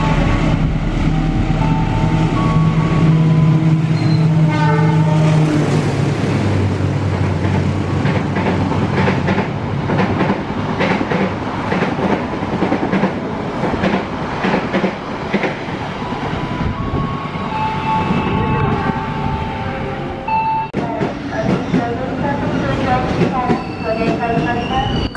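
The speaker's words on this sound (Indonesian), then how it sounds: "kali ini lokomotifnya pergi lebih jauh menuju stasiun Malang" A locomotive-hauled passenger train rolls past on the rails toward Malang station in Indonesia: a loud, sustained rumble with wheel clatter and a squealing tone, close and dominant throughout.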